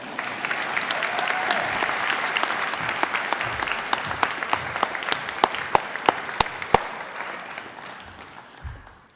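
Graduation ceremony audience applause for a student speaker, a broad wash of clapping that thins out toward the end into scattered, distinct individual claps before dying away.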